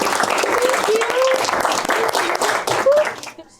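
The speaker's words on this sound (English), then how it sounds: "Can we clap for Miss Warren?" A classroom full of people claps and cheers at a school, with whoops and voices rising over steady applause that fades out at the end.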